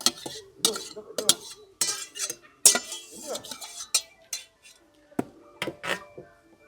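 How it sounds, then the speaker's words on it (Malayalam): A spoon scrapes and clinks against a dish while ragi porridge is mixed with chicken paste for a Rottweiler puppy, irregular close taps and stirring strokes in a quiet room. "ഇതുപോലെ നല്ലോണം മിക്സ് ചെയ്യുക"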